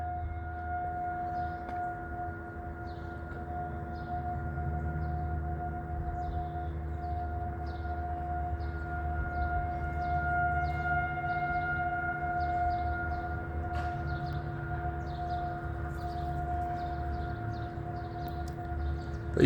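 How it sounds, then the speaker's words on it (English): A civil defense tornado siren sounds during a yearly test, a steady sustained wail held for the whole stretch at moderate distance, with small birds chirping faintly over it. "They're testing the tornado sirens today."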